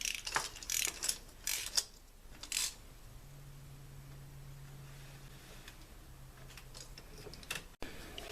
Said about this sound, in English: You want to go as tight as you can by hand, plus a quarter turn with the filter wrench.